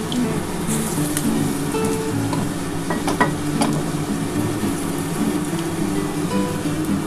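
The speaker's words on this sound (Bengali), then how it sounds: "এগুলো ভেজে নিয়ে তারপর তুলে তোমাদের দেখাচ্ছি" Masoor dal fritters (bora) frying in hot oil, a steady close sizzle and crackle running throughout with occasional utensil clinks and stirring, no talking.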